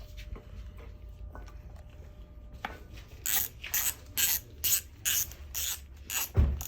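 Parts being tightened with a ratchet during a Toyota 1JZ engine rebuild for a Toyota Soarer, with quiet fiddling first, then about eight rhythmic, close clicking ratchet bursts in a row.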